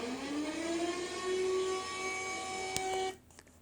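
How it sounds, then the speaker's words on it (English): An Argentinian emergency alert siren gives a loud, steady electronic wail that rises slightly in pitch, then cuts off abruptly, leaving a faint hum and a few soft clicks. "we have the other Argentinian siren."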